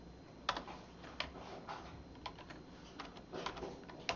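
Soft, scattered keystrokes on a computer keyboard, including a Ctrl+Enter press, tap at irregular intervals against a quiet background hiss, close but faint, with no voices.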